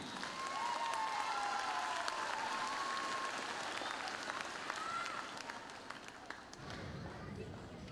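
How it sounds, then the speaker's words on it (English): After an all-district choir concert, an audience bursts into sustained applause, a dense wash of clapping from a large crowd that holds steady and then thins toward the end, with faint voices mixed in. "so a round of applause for them"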